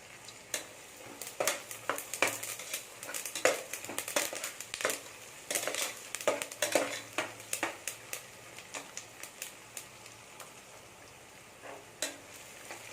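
Onions and green chillies sautéing in a pan with curry leaves and cashews for coconut vegetable biryani: a soft steady sizzle broken by frequent sharp scraping and stirring strokes, close and alone with no talk.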